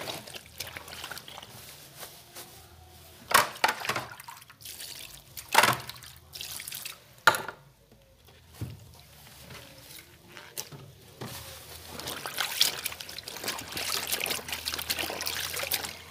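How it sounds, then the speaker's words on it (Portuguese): Homemade liquid soap, made from powdered detergent, poured onto laundry washed by hand: soft trickling and splashing with several sharper wet bursts, then a steadier pour toward the end, close and fairly quiet. "colocar o sabão líquido que é feito à base de sabão em pó"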